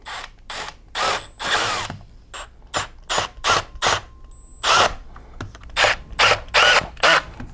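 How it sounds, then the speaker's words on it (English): A power driver drives screws back into a Tyco Olympus music server, giving a series of short, sharp whirring bursts with ratcheting clicks, spaced unevenly and close to the mic with quiet gaps between. "Let's put the screws back on."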